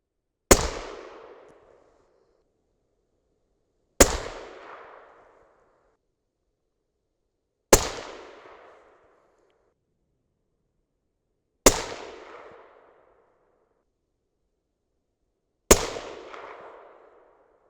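Five sharp 6.5 Creedmoor rifle shots, loaded with 140gr Hornady match BTHP bullets over Reloder 26 powder, crack out at steady intervals of about four seconds on an outdoor range. Each report is loud and close and decays quickly into silence.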